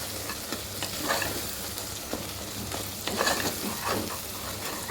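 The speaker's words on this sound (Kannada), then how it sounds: "ನೋಡಿ, ಚೆನ್ನಾಗಿ ಈರುಳ್ಳಿ ಫ್ರೈ ಆಗ್ತಾಯಿದೆ." Chopped onions frying in oil in a home kitchen pan for plain kushka, a steady close sizzle and crackle throughout with scraping stirs of a spatula, no talking.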